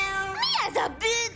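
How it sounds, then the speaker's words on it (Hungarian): A cartoon cat gives a short, sliding meow amid animated cellar sounds, heard close and clear right after a brief spoken line. "Nem kell félni, csak Cliff az a macska."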